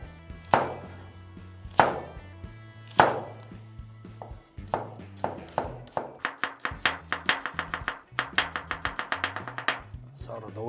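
Knife slicing onion and carrot on a cutting board for Chinese spring rolls, starting with a few slow, heavy cuts and speeding into a quick, steady run of sharp taps close to the mic, with no talk.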